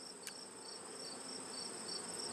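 Bees around an open backyard beehive in late summer, a steady faint high buzzing hum that holds evenly throughout, distant and low in level with no voices.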